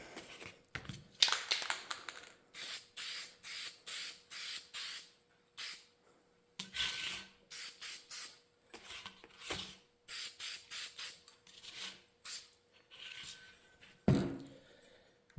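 Guide coat goes on a coffee grinder restoration piece in short, quiet aerosol spray bursts, with rhythmic hisses broken by light knocks and handling clatter, close and without talk.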